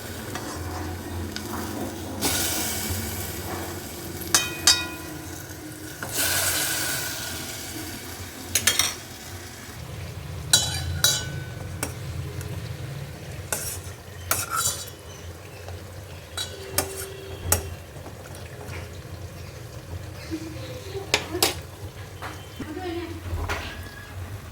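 Jalebi spirals frying in hot oil for a homemade Bengali jalebi, giving a steady low sizzle throughout, punctuated by sharp clinks and scrapes of a utensil against the pan, with a voice talking over parts of it.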